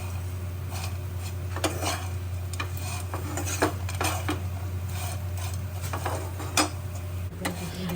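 Arbi (taro root) sabzi is mixed in a pan, with a utensil scraping and clinking against the metal in irregular, fairly close strokes over a steady low hum, and no talking.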